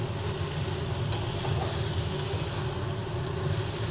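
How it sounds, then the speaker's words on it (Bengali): Chicken is stirred and mixed with spices in a hot pan, giving a steady sizzle and hiss with faint scraping under it. "ভালোভাবে নাড়াচাড়া করিয়ে ওপর নিচ করে করে মশলার সঙ্গে চিকেন মিশিয়ে দিচ্ছি"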